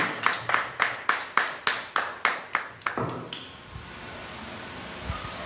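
Congregation at a church service clapping in a steady rhythm, about ten loud, evenly spaced claps before the clapping stops and a quieter room murmur remains.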